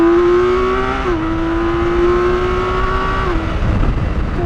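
A BMW K1600 Bagger's six-cylinder engine pulls hard in a loud, steady, rising drone close by, pitch climbing and briefly dipping at a gear change before climbing again.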